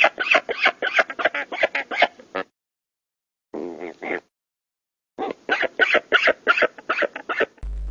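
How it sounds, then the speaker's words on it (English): Seagulls call in rapid bursts of harsh, repeated squawks, loud and close, with a pause between groups of calls. "Seagulls."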